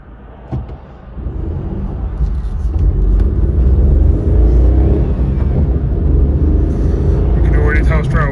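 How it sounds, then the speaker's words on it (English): A Vauxhall Corsa C drives down the road while being checked for a wheel bearing noise, its engine and road rumble building from a low start to a steady drone heard from inside, with a person talking over it. "let's whip it down the road and see if we've got a wheel bearing noise anymore"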